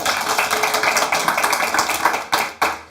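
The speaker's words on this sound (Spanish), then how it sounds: "Démosle un fuerte aplauso al Señor." Church congregation breaks into loud, sustained applause during a worship service, many hands clapping in a dense, fairly rhythmic patter that fades out at the end.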